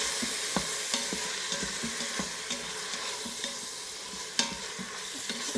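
Pasta salad with marinated artichokes is stirred in an Instant Pot, a close scraping and clinking of a utensil against the metal pot over a soft sizzle, no one speaking.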